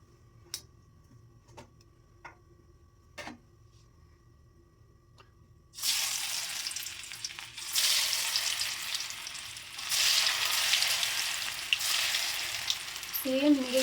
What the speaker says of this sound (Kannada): ಸೊ ಇವಾಗ ಎಣ್ಣೆ ಚೆನ್ನಾಗಿ ಕಾದಿದೆ. ನಾನು ಇವಾಗ ಇದಕ್ಕೆ ಕಟ್ ಮಾಡ್ಕೊಂಡಿದ್ದಾಗ ಸ್ಲೈಸ್ ಮಾಡಿ ಇಟ್ಕೊಂಡಿರುವಂತಹ ಆಲೂಗಡ್ಡೆನ ಹಾಕ್ತೀನಿ